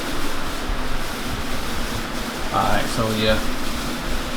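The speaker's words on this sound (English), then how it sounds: "That noise you hear in the background, that's my fan." An electric fan running in a hot garage during rear disc brake work on a Monte Carlo SS makes a steady broadband whoosh throughout, with someone speaking briefly over it.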